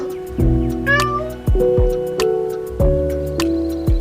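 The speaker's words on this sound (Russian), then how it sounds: "Котенок, откуда ты здесь?" A kitten meows three or four times in short, clear cries spaced about a second apart, close and fairly loud, with a bright musical backing and light plinking sounds around it.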